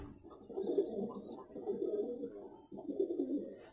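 A pigeon coos nearby in three soft, rolling phrases, low and murmuring, with quiet background between them.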